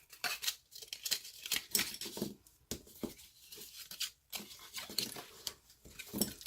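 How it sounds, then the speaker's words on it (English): A piece of paper is folded and then burnished flat with quick, dry scraping and rubbing strokes, coming in close, irregular bursts with brief gaps and no talking. "This piece here we're going to fold and burnish."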